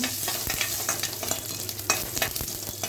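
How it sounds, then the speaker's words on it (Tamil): Chana dal, urad dal and cumin are stirred as they fry in oil for a tempering: a continuous sizzle with quick repeated scraping strokes of a spoon in the pan, close and moderately loud, no speech. "கடலைப்பருப்பு கொஞ்சம் உளுத்தம்பருப்பு கொஞ்சம் சீரகம் போட்டு நல்லா கிளறி விடுங்க"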